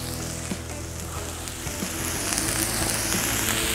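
Smash burgers and buns sizzle on a Cuisinart 360 griddle in a steady, close frying hiss with small pops, growing slightly louder toward the end, with no talk over it.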